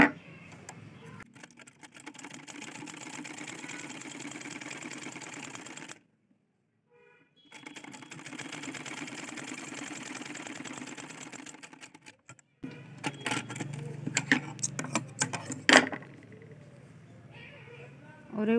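A sewing machine stitches down a folded hook strip for a blouse in two sustained runs split by a brief silence, followed by clicking handling noises and someone talking.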